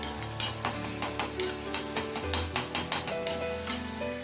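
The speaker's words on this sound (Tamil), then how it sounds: "இப்போ நல்லா வதங்கிடுச்சு. இன்னும் ஒரு 2 செகண்ட் வதங்கட்டும்." Ingredients sautéing in a pan sizzle steadily while a utensil scrapes and taps in a regular, rhythmic stirring pattern, close and moderately loud, over a faint background hum.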